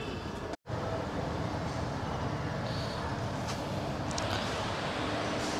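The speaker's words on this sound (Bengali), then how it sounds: "তো কাঠিয়ার থেকে ছেড়ে দিল আমাদের ট্রেন।" Heard from on board, a Vande Bharat train pulls out of Katihar station early in the morning with a steady, dense rolling rumble and faint squeals, broken only by a brief dropout.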